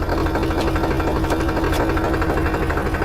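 A tractor engine runs steadily close by, a constant low chugging throb with no change in pace and no talk.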